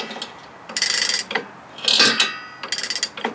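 A car engine turned over slowly by hand with its valves moving, giving close mechanical clicks, ratcheting and metallic scraping in a few uneven bursts.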